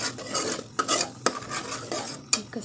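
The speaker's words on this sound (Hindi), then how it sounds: "हाणे हिनखे मिक्स कयो" A spoon stirring custard powder mixed into milk in a metal pot, steady close scraping swirls broken by sharp clinks of spoon against the pot, loud and clear with no talk.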